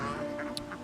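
A single short quack from a duck on an off-grid homestead, brief and fairly close.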